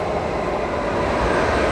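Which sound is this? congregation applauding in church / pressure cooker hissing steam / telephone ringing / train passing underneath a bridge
train passing underneath a bridge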